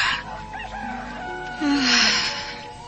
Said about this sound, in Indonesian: Aku telah mendengar kokok ayam jantan, juga suara burung.